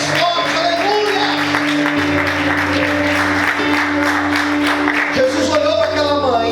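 Church congregation clapping loudly and continuously during a sermon, with steady dense applause mixed with sustained music tones and some shouting voices throughout.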